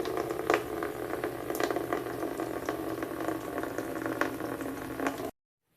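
Water draining out of a GE water cooler during cleaning with vinegar, a steady bubbling, gurgling flow close to the microphone with small splashes and clicks, continuing without pause for about five seconds and then stopping abruptly.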